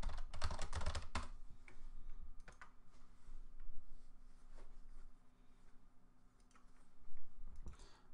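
Typing on a computer keyboard, quiet and close, with a quick burst of rapid keystrokes at the start followed by scattered, irregular clicks and short runs of keys.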